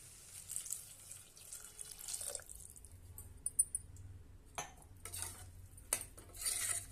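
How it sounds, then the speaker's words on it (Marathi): Water is poured into a pressure cooker of sautéed vegetables for veg pulao: soft splashing and pouring mixed with metallic clinks and a quick stir, quiet and close, without speech. "आता आपण यामध्ये पाणी घालूया"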